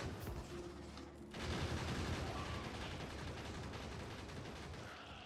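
Dense, continuous gunfire from several turrets and guns in the factory-building game Factorio, a loud rattling barrage that starts lighter, then swells after a brief pause and keeps going steadily without a break.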